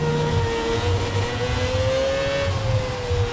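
Race car engine in F1 2017 on a track, pitch rising and falling steadily as the throttle is fanned on and off, a continuous close loud drone with a low rumbling layer.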